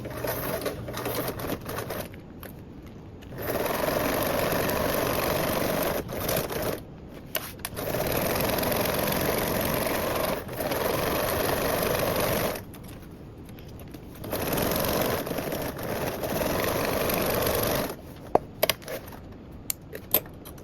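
A sewing machine stitches a seam with a 1/8 inch allowance around a perimeter, running in several loud, steady bursts of rapid needle chatter separated by short pauses and faint handling clicks.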